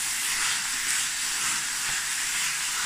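Ostrich mince sizzles in a pan on a Faber cooker, a steady, loud, close broadband hiss that holds evenly without pause.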